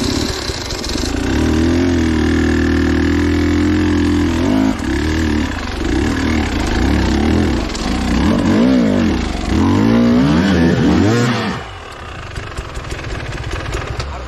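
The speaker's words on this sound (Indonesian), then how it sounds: "Udah lama enggak ngegas nanjak kayak begini" A trail motorcycle climbs a steep uphill track near a mountain summit, its engine revving hard and loud up close with rising and falling pitch sweeps before easing off near the end.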